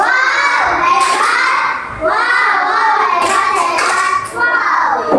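Children in a classroom clap their hands together in quick bursts, loud and close, mixed with shouting young voices.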